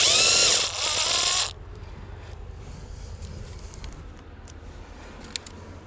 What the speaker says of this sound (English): That's why I like having my drill.